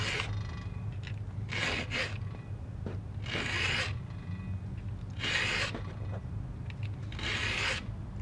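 Chainsaw teeth being filed by hand with a STIHL 2-in-1 filing guide, five rasping strokes spaced about every second and a half, close and even, over a low steady hum.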